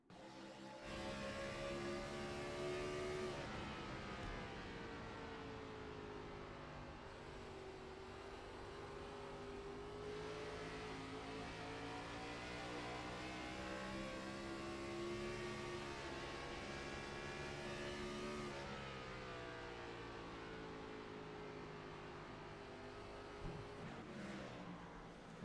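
A high-pitched 900-horsepower stock car engine in an iRacing game at Phoenix Raceway drones steadily and loudly for the whole stretch, its pitch rising and dipping through gear shifts with no talking.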